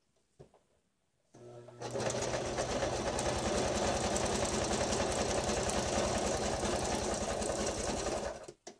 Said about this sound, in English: I'm even gonna run it through my sewing machine.